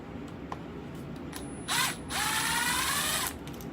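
A ratchet wrench fitted with a Craftsman extension backs screws out of a Milwaukee 2804-20 Gen 3 Fuel hammer drill, giving a brief whir and then a longer steady clicking spin over a quiet room hum, close by.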